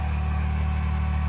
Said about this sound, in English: it makes a normal noise from the engine, but I'm hearing this grinding sound